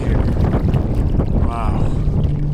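Strong wind buffets the microphone at a frozen lake, a loud low rumbling roar that stays steady throughout.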